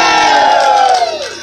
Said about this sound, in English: This is where you cheer loudly